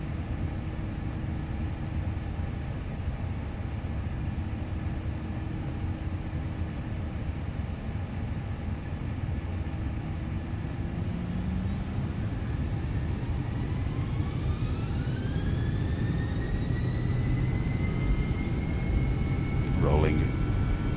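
Airbus A318 jet engines spooling up for a takeoff roll in Microsoft Flight Simulator 2020, a steady broadband rumble with a rising whine that climbs in pitch over the second half.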